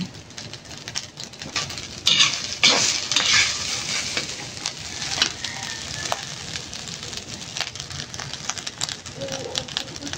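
Rice fries in a pan still greasy from frying eggs, with a continuous sizzle and scattered clinks and scrapes of stirring. Bright sputtering bursts around the middle sit over faint background noise, and no one speaks.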